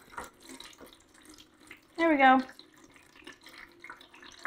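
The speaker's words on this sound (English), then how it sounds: "So when you are adding water into your system, you're going to go ahead and fill it up through this water line." Water pours into the reservoir of an iDOO 10-pod indoor hydroponics system through its fill line, a short burst of splashing lasting about half a second, loud and close, with someone talking quietly before and after.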